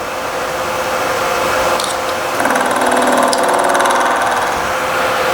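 A machine runs steadily while a die is machined in a V-block, its drone rising to a louder, busier whine partway through, close and alone without voices.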